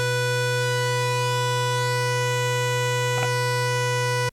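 An Oberheim TEO-5 plays a through-zero FM patch with a narrow pulse-width square wave, giving a steady, buzzy, nasal drone that is loud and sustained, with one brief glitchy blip before it stops.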